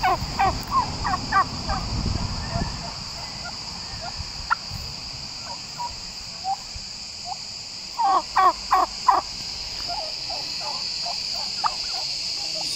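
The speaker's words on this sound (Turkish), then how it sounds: "Hindi var." A flock of around thirty turkeys in Uzuncaburç gives repeated bursts of gobbling, some in quick clusters, at moderate distance over a steady background of insect chirring.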